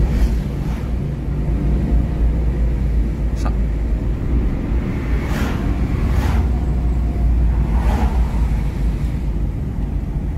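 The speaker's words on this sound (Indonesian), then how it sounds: "Ini ada mobil." Steady roar of traffic on the Lintas Timur highway near Tanjung Enim, with a car sweeping past amid continuous wind-like road noise and a few fainter passing swells.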